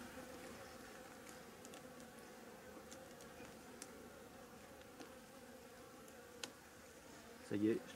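Bees buzz faintly and steadily around an open hive while strips are being lifted away, a soft continuous drone with a short louder thump near the end.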